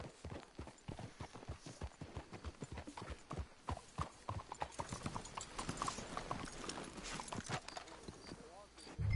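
Horses' hooves clip-clop along in the Western game Red Dead Redemption 2, a brisk uneven patter of several animals close by, with voices talking over them.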